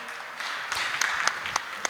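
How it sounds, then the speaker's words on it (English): Applause from the audience at a real estate awards conclave panel, a moderate patter of clapping with a few sharper individual claps standing out. "Give him a big round of applause, please,"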